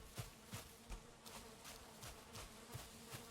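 Bees buzz in the video game Valheim, a faint, steady droning hum with soft pulsing swells, heard alone without talk.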